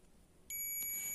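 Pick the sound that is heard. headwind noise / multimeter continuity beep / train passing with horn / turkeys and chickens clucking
multimeter continuity beep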